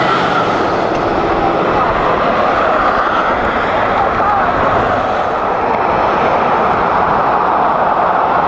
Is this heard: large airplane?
yes